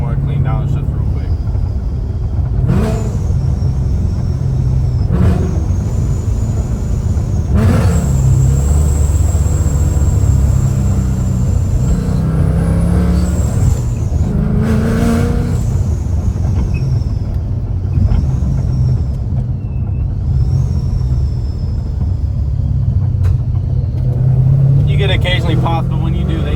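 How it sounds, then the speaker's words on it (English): Supercharged Ford Mustang GT heard from inside the cabin during repeated downshifts, a loud, continuous low exhaust drone with rising and falling revs and occasional sharp whine and blip peaks. "I'm gonna shut up for a second and give y'all some more clean downshifts real quick."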